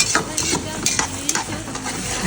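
Lamb tail and neck pieces fry in a large cauldron with a steady sizzle while a utensil stirs and scrapes in repeated strokes, close and loud, with no talk.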